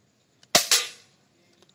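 A single air rifle shot fired at a 10-meter target: a loud, sharp crack followed almost at once by a second snappy report that fades quickly into quiet, heard up close with no talking.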